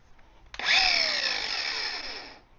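An angle grinder spins up on a test run after its wheel is tightened, with a sharp start-up and then a loud, steady high whine. The whine drifts slightly in pitch and holds for about two seconds before it begins to wind down.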